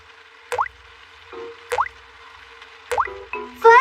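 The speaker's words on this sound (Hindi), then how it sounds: "बारिश का पानी घर के अंदर आ रहा है।" Rainwater drips into a house in a Peppa Pig cartoon, with three evenly spaced, bright plops over a quiet background, then a rising cartoon tone at the end.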